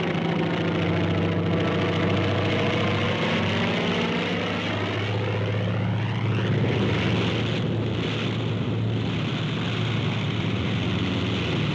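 A 1944 propeller warplane comes in to land on an aircraft carrier deck, its steady droning engine roar filling the whole stretch, loud and continuous with a slight pitch shift partway through and no voices.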